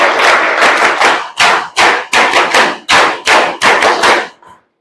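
An audience of NCC cadets at a motivational talk claps together in tight rhythmic bursts, about a dozen loud, close group claps in a steady pattern that ends abruptly.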